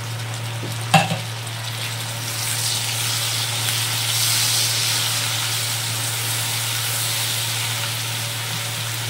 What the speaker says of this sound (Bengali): এবার এর মধ্যে আদা বাটা আমি দিয়ে দিলাম।